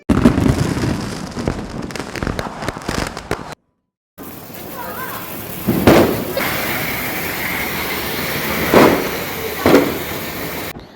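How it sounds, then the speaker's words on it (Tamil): Diwali firecrackers crackle in a rapid burst, then after a brief silence several sharp booming bangs ring out against a noisy outdoor background. "அடுத்தது லயன் பட்டாசு வெடிப்போம்."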